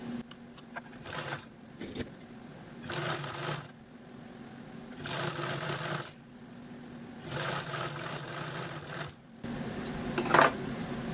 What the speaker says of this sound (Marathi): अशा पद्धतीने फोल्ड करून आपण हे हँडल स्टिच करून घेणार आहोत